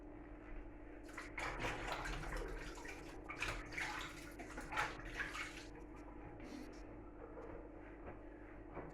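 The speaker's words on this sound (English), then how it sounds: "Wash my fingers." Fingers are rinsed under a running tap in a home kitchen, a soft splashing of water that swells and fades in uneven bursts, fairly quiet and close.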